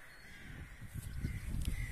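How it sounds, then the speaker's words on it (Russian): Crows caw repeatedly outdoors near a well where a borehole screw pump is being fitted, the calls faint and somewhat distant over low ambient rumble, with several caws in the second half. "Вороны продолжают орать."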